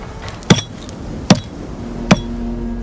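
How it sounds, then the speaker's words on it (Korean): A stonemason splits stone blocks by hand with a hammer and wedge, four sharp ringing metal strikes spaced evenly under a second apart over a low ambient hum. "석공은 망치와 쐐기만으로 솜씨있게 돌을 절단했다"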